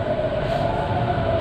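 A Delhi Metro train pulls into an underground station on the line from New Delhi station toward the airport, a steady, loud rumble of wheels and motors with a sustained tonal whine throughout.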